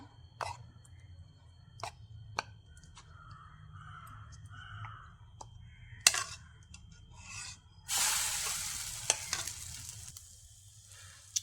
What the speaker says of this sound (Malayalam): എല്ലാ പീസും ഇതുപോലെ നമുക്ക് മുട്ടയിലേക്ക് മുക്കി ഇട്ട് കൊടുക്കാം